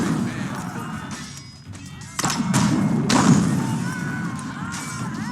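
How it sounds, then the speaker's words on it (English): Siege catapults in the real-time strategy game Age of Empires IV fire on the enemy during a battle, with heavy thuds and crashing impacts layered over busy battle noise and a talking voice. "catapults here, firing away at the enemy"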